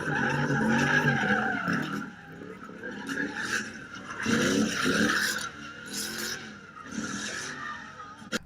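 Cars spinning with smoking tires at a street sideshow, tires squealing and skidding in repeated loud, rasping bursts over revving engines, rising and falling as the cars circle nearby.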